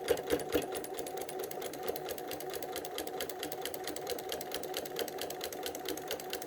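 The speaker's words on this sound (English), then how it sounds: "I know I should probably be sewing faster" A sewing machine stitches a quilted placemat at a steady, moderate pace throughout, with a continuous close mechanical whir and rapid needle rhythm.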